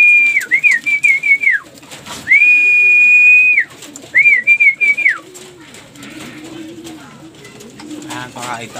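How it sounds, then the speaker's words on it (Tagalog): Pigeons being fed, giving soft low coos in the background while a person whistles loud repeated calls to them, with the cooing becoming clearer once the whistling stops. "Pakain tayo mga kalapatids."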